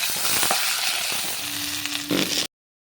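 Beans frying in hot oil over five-spice seeds, seasoned with salt and turmeric, make a dense, loud, close sizzle with light stirring scrapes, cooked outdoors in a courtyard. The sizzle stops abruptly.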